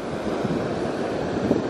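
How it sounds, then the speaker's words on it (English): Ocean waves breaking on a cloudy beach at very low tide, a continuous broadband wash of surf with wind rushing across the microphone. "Look at the nice waves, really low tide."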